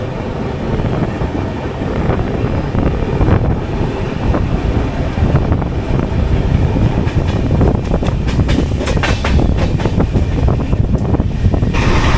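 The 16511 Kannur Express runs between Bengaluru and Kannur via Mangaluru Central, heard from inside an AC 3-tier coach as a loud, steady rolling rumble with rhythmic wheel clatter and rushing air.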